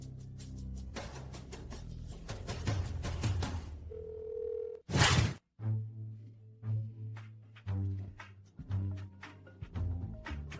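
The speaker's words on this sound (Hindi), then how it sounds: "अभी अभी उसे फोन किया था, उसने उठाया ही नहीं।" After a burst of dramatic music, a telephone rings unanswered, its ring tone repeating in regular pulses with short gaps of silence between them.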